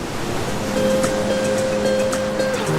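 Surf breaking at a beach on the Ecuador coast gives a steady, broad wash of wave noise, fairly close and continuous, with a faint tonal hum running underneath and no one talking.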